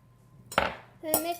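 A utensil mixes pico de gallo in a bowl and strikes the bowl twice. Each strike is a distinct, close clink, and the two are separated by a brief quiet gap.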